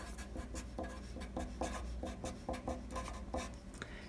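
Marker or chalk writing math on a board in rapid strokes and taps, close and steady for a few seconds, with no voice over it.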